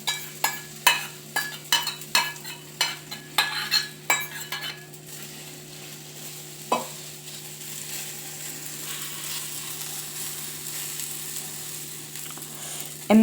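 A vegetable, oats and egg omelette mixture in a pan, with a run of quick, rhythmic scraping and clinking stirring strokes at first, then a soft, steady sizzle that carries on alone.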